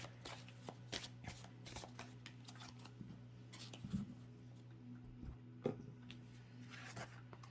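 Tarot cards are shuffled and drawn in quiet, soft riffles and slides, with a series of light papery taps and flicks spread across a hushed room.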